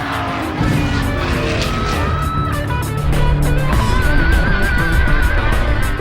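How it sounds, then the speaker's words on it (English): Ricky Rudd's stock car goes out of control at the 1984 Busch Clash. A loud engine roar mixes with skidding and a rising tire squeal as it heads for the wall. "Ricky Rudd slamming toward the wall,"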